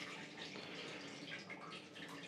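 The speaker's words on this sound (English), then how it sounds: "And now that tap's still on." A hotel bathroom tap running steadily, a continuous close hiss and splash of water falling into a basin, even in level throughout with no talk.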